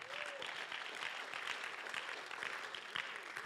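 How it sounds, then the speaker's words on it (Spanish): A church congregation claps for the Lord at a sermon, a fairly quiet, steady patter of many hands that feels somewhat distant, with faint voices mixed in. "Denle un aplauso fuerte al Señor"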